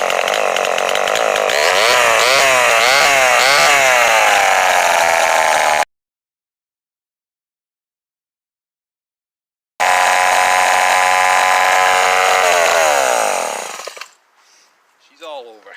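A Homelite XL12 chainsaw with a slight air leak runs at high, buzzing revs during carburetor tuning, loud and close, in two long bursts split by a silent cut. The engine's pitch wavers slightly before it dies away at the end.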